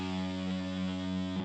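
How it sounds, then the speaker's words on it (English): A crazy, heavily distorted guitar sound from a native Ableton instrument sustains one low note for a second and a half, buzzy and thick with texture, then cuts off abruptly. "And for accent this bass, I add this crazy guitar sound like this."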